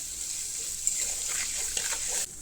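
Fenugreek seeds fry in hot oil for a vegetarian dish, giving a continuous soft, bright sizzle with small crackles and no talk.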